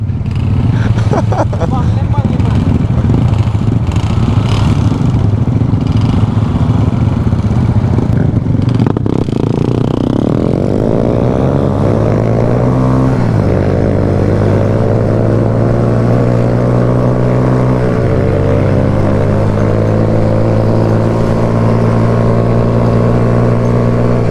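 A motorcycle with a freshly overhauled engine, new piston and head, revs and rides with the crew in Jamaica, loud and close, engine pitch sweeping up and down through repeated gear changes, with voices over the wind noise.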